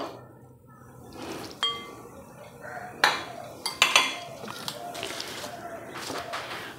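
Pieces of mutton dropped and shifted into a large bowl in a home kitchen, with a few sharp clinks and knocks of metal or glass against the bowl, spaced irregularly over low background noise.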